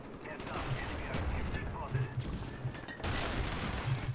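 Rapid-fire PM63 submachine gun in Call of Duty: Black Ops on PC, dense automatic gunfire rattling throughout, fairly quiet, with other battle noise mixed in.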